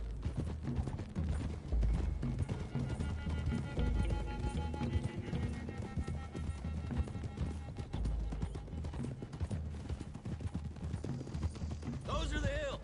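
Horse hooves pound in a galloping clip-clop in Red Dead Redemption 2, a dense, loud rumble of riders sustained under game speech and shouting, ending with a brighter burst near the close.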